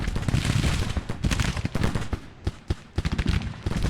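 Civil War battle gunfire in the strategy game Grand Tactician, with loud dense rolling musket volleys and cannon reports crackling continuously, the bursts briefly thinning before more heavy firing resumes.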